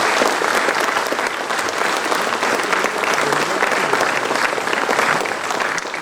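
Audience at a college course inauguration applauding the guests, loud, sustained, dense clapping close by for several seconds.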